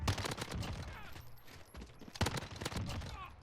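Uzi submachine gun firing in Call of Duty: Modern Warfare, rapid bursts of automatic gunfire with dense rattling shots in quick succession, two main bursts with a short pause between.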